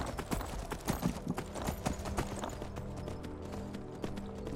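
Rapid, rhythmic hoofbeats of a galloping horse in the video game Skyrim pound steadily throughout, close and continuous over a soft background.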